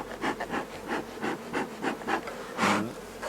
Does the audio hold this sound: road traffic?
no